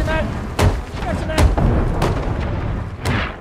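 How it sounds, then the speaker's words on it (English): Cannon fire in the pirate ship game Sea of Thieves: four heavy booms spaced about a second apart, loud and close over a rumbling background. "I feel cannon fire"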